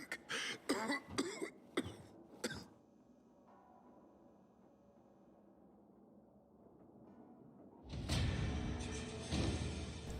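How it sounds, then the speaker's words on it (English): Several sharp coughs from one person burst out close together in the first few seconds, followed by a low, steady background rumble and then a loud rushing whoosh near the end. "This dude is coughing"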